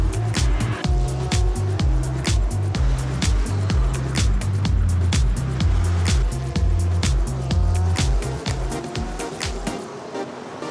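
Race cars driving during qualifying warm-up at the Baku City Challenge 2012 street race, a dense, continuous engine drone with repeated sharp pulses, loud and steady throughout.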